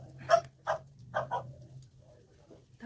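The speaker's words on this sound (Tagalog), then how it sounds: "May aso na naman. Ingay na talaga guys." A dog barks several times in short separate bursts, moderately close, over a steady low indoor hum, with quieter sounds trailing off afterward.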